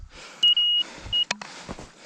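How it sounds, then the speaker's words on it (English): A snow depth probe used for Arctic snow measurement gives two sharp, high-pitched electronic beeps while recording data, close and loud, with brief outdoor rustling and a clunk between them. "The beep's kind of annoying, but it tells you that you're recording data"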